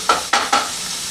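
Cabbage sizzles loudly in a hot pan with three quick stirring scrapes close together, then a steady frying hiss continues alone.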